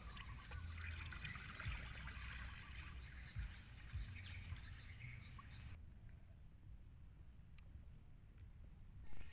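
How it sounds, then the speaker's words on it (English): Pig liver simmers in a pot of water, a faint, steady bubbling trickle that runs on quietly with no voices over it. "So now we start to boil."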